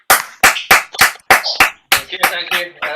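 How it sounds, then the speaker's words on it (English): Loud, close handclaps ring out at an open mic night, about ten sharp claps in a fairly steady rhythm, with a voice mixed in toward the end. "Big round of applause for Denzel de Cristo"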